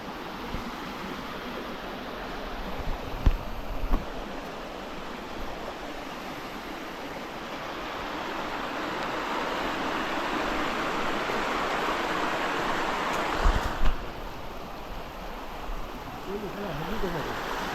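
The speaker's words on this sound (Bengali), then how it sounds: "পাহাড়ের ওপর থেকে কিন্তু জল নিচে নেমে যাচ্ছে" Water from the source of the Bandu river rushing down a hillside, a continuous broad roar that swells in the middle, with a couple of brief knocks and no talk.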